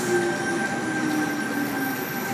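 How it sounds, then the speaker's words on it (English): Sydney Trains Tangara set pulling out of a platform at Central station on a Penrith service, with a steady, close rumble of wheels and a high tonal whine and faint squeal, with no talking. "T99 departing platform 18, it is a Penrith service."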